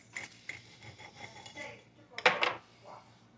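A knife cuts into a baked jalapeno ranch sausage roll-up on a plate, giving soft scraping strokes and then a couple of sharp clinks of metal against the dish, close and fairly quiet.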